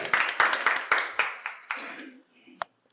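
Audience at a quiz competition in a medical college hall clapping for a correct answer, a short burst of loud, close hand claps fading out within about two seconds.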